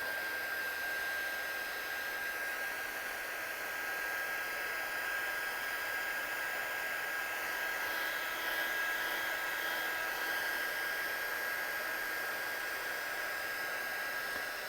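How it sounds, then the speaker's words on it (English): A heat gun blows a steady, loud, unbroken hiss throughout while it dries an inked image for card making, with no talk over it. "Hopefully you have got a heat gun."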